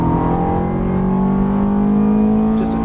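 A Ferrari F430 engine drones loud and steady at high revs, a dense sustained note with a slight rise in pitch, heard from inside or close to the car with no talking.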